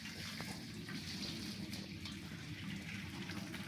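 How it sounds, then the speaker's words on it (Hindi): Water poured off a pot of boiled rice being drained in a home kitchen, a steady soft splashing and gurgling stream, close and continuous, with no voices. "देखो जी, मैंने सारा इसके अंदर से पानी निकाल दिया जी।"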